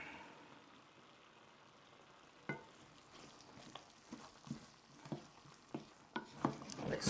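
Oatly plant cream is stirred into a vodka pasta sauce in a pan, making a soft wet sizzle with a scatter of clicks and taps from a spoon against the pan, which grow louder toward the end.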